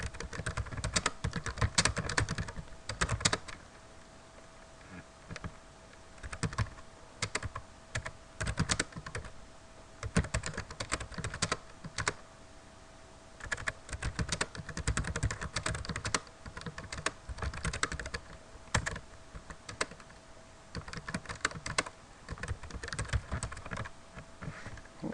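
Fingers type on a computer keyboard while entering a sentence into an online form, a steady run of quiet, close clicks and key taps in irregular bursts with short pauses, no voices present.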